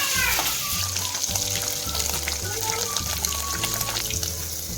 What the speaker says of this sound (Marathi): आपण इकडे पनीर फ्राय करून घेऊ